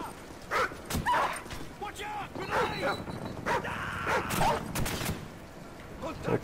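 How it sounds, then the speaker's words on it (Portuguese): Dogs bark and yip in bursts in the Call of Duty 4: Modern Warfare hideout mission on hard difficulty, mixed with gunfire and someone talking over the action. "É o seguinte, vai vir um cachorro."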